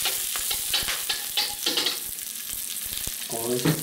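Beef and tomato for lomo saltado sautéed over high heat, frying and sizzling loudly with repeated stirring and tossing scrapes, close up and continuous without talk.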